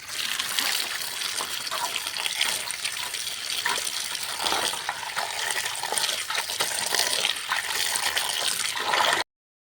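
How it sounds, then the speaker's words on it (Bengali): Water runs steadily from a tap as neem leaves are washed under it, a continuous close splashing and trickling that lasts nearly ten seconds before stopping abruptly. "আর ভালো করে ধুয়ে নিচ্ছি।"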